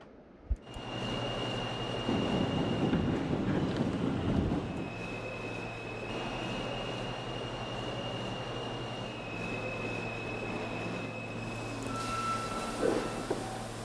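A New York subway D express train running in snow, heard from inside the car: a continuous rumbling ride with steady motor whine tones shifting in pitch, rattling and a rising screech near the end.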